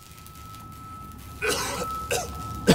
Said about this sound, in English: I'm coughing at the dawn,